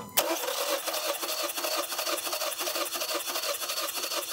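A car engine cranks with help from a NOCO jump starter, gas pedal held to the floor on a sludged engine: a rapid, even starter chug runs continuously for about four seconds, close and fairly loud, with no talk.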